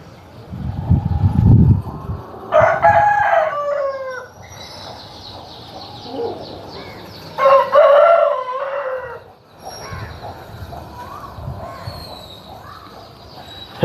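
A large double-bodied Palla Abrash rooster gives two strong, close crows a few seconds apart, with softer clucking and rustling in between and a faint low thump at the start.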